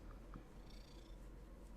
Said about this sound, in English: He's purring up a storm, though.